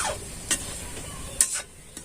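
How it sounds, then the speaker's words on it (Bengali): Wheat flour biscuits going into gently heated oil, a soft steady sizzle broken by a few sharp splashy bursts as pieces drop in, heard up close. "এবার আমি বিস্কুটগুলো ছেড়ে দেবো।"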